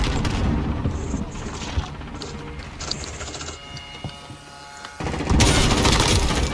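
A Call of Duty match plays with scattered game sounds and a few isolated shots, then a loud, dense burst of gunfire erupts near the end.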